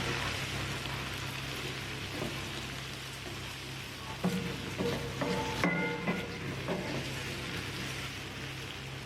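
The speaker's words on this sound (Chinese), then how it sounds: "接着继续翻炒均匀，让黄瓜和鸡蛋的香味能够充分的融合到一起" Cucumber and eggs are stir-fried in a wok, with a soft, constant sizzle and a few light scrapes and clinks of the spatula midway, heard fairly quietly and without speech.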